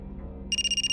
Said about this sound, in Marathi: विक्रांतचा फोन आहे.